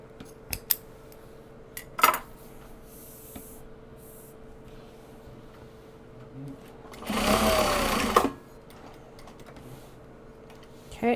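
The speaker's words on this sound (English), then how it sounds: "next bobbin is wound, so we're good there" A sewing machine winds a bobbin in a steady whirring burst of about a second, set among scattered small handling clicks and snips in a quiet room.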